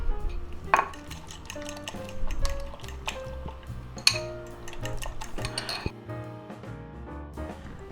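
A utensil beating food in a bowl with chopped celery added, making sporadic clinks and knocks against the dish alongside faint wet sloshing, moderately close with irregular strokes and no talk.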